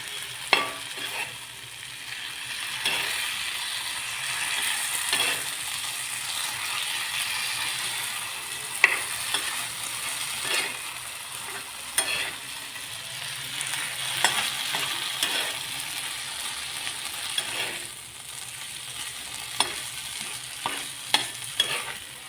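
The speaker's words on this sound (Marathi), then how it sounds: "त्यामध्ये आता आपण ठेचलेले टोमॅटो टाकून घेऊया" Crushed tomatoes sizzling in a pan with a roasted spice paste, a steady close frying hiss broken by frequent scraping clicks of a spoon stirring against the pan, with no talking.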